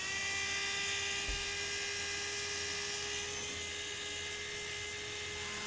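A Ryobi base-station rotary tool with a flex shaft runs at about half speed during break-in, giving a steady high whine with hum and no breaks.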